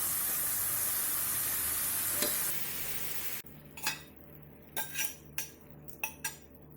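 Saag goes into sizzling ghee and masala in a pressure cooker for sarson ka saag. A loud, even hiss of frying drops off abruptly, followed by a series of sharp spoon scrapes and clinks against the pan as it is stirred.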